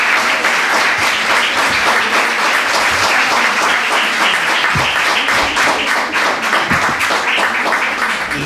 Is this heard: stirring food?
no